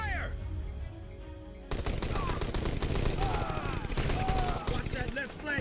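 Sustained gunfire in the Rambo video game, a dense barrage of rapid shots that begins abruptly after a quieter opening and continues loud and unbroken to the end, with game voices and effects mixed in.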